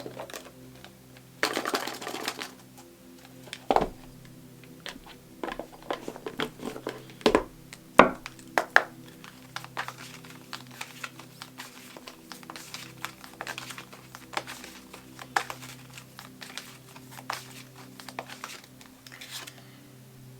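Animal oracle cards are shuffled and pulled in a string of light snaps, riffles and taps, irregular and close, with soft rustling between the sharper clicks.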